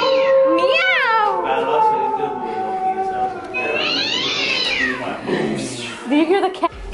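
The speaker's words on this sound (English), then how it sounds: "Do you hear the cat?" A cat meows several times close by inside a children's museum, drawn-out rising and falling cries, with a person talking over parts of it.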